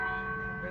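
A church bell rings close by, a sustained metallic tone with steady overtones ringing throughout the brief moment, loud and unbroken.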